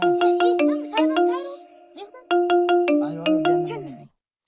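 A mobile phone ringtone plays loud and close, a bright repeating melodic tone pattern in two bursts with a short gap between, ending abruptly as it is answered.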